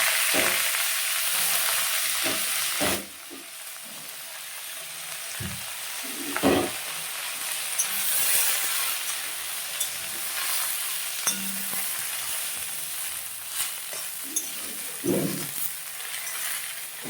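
Pumpkin leaves sizzle and fry in a hot pan while being stirred, with occasional scrapes and clinks of a utensil against the metal. A steady, close hiss carries throughout with irregular stirring knocks and no talking.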